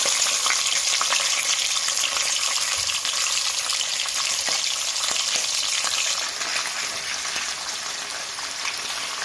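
Pieces of tender beef for an Upper Egyptian taqliya fry in a pan, giving a steady, loud, close sizzle throughout with occasional spattering crackles, easing slightly toward the end.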